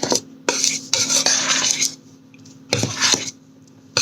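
A utensil stirring flour-based chicken fry coating mix in a bowl, scraping and rasping strokes in several loud bursts separated by short pauses, with no talking.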